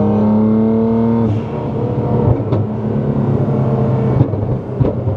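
A Nissan GT-R engine hums steadily, then rises into a rough, loud rev with a rumbling, crackling exhaust, heard up close on a road trip.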